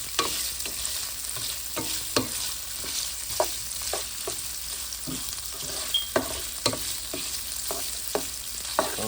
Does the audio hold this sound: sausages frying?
yes